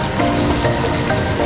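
Chicken feet sizzling in a hot pan while being stirred, a loud, dense, close crackle and hiss with faint scraping of the stirring underneath, no talking.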